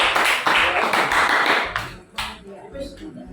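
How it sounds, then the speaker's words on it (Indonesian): Students applaud together in a classroom, a dense burst of hand claps lasting under two seconds that fades out, followed by a teacher's voice speaking over the quiet room. "Tepuk tangan."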